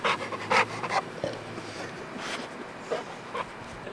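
Biggie, a shelter dog up for adoption, pants in quick, breathy bursts close by. The panting is fairly soft and comes in uneven clusters over a quiet background.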